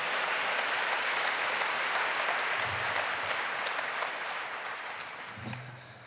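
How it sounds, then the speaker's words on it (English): An awards ceremony audience at the James Beard Restaurant & Chef Awards breaks into sustained, dense applause from a large room full of people, steady throughout and fading slightly toward the end. "You can clap."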